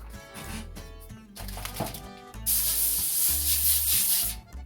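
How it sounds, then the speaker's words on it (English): Cooking spray hisses onto foil on a sheet pan in a steady burst lasting a couple of seconds, preceded by rustling and handling noises close by. "I want to spray my foil."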